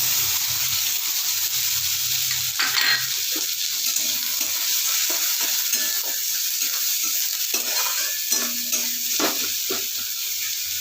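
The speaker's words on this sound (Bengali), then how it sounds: "পেঁয়াজটা আমি হালকা একটু ভেজে নেবো।" Chopped onion frying lightly in oil with fennel and asafoetida, a continuous close sizzle with occasional stirring scrapes throughout.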